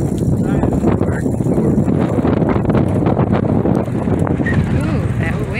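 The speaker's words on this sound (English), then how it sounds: "Ooh, that wind." Outdoors at a park, wind buffets the microphone with a constant loud rumbling roar that runs through the whole clip.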